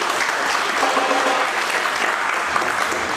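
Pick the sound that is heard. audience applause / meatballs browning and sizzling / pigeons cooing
audience applause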